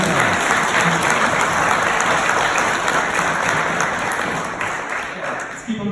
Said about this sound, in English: Please give them a round of applause again.